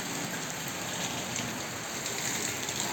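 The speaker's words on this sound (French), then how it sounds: "Il pleut," Steady rain pours down on a guest house in the Georgian countryside during a thunderstorm, a dense, continuous hiss of drops on surfaces with no distinct thunder claps, loud and close throughout without any talking.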